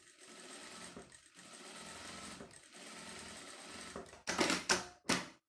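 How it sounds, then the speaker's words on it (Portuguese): Sewing machine stitching along the edge of fabric for a manicure kit pouch, a close rapid mechanical whirr running in several bursts with short pauses, ending in a few louder, sharper clattering runs. "E rebater uma costurinha bem na beiradinha para ficar todo mundo certinho no lugar."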